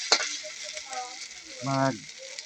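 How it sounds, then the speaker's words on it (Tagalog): Steady crackling sizzle of an egg frying in a pan, with a brief clatter and a short tonal scrape partway through. "Prito kong konti para"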